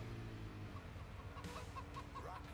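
Chickens cluck softly in the Farming Simulator 17 video game, with short repeated clucks over a low steady engine-like drone.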